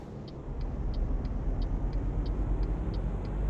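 A car in Euro Truck Simulator 2 rolls by under the steady low drone of the player's truck engine, with a faint rhythmic ticking repeating evenly throughout.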